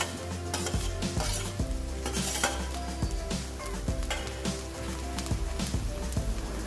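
Sabudana khichdi with boiled potatoes, red chilli, coriander-cumin powder and garam masala stirred in a pan, a steady sizzle under repeated spoon scrapes and knocks, close and without voices.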